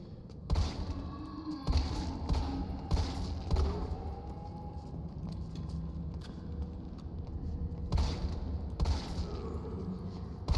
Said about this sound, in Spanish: ¿Por qué las explosiones están al 1000 de sonido?